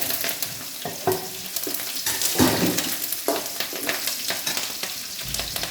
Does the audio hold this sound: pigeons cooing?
no